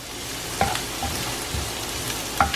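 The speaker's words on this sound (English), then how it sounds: "We just want onions to become soft and translucent." Onions fry in a hot pan with a steady, close sizzle, broken by a few soft clinks and scrapes of stirring, no voices.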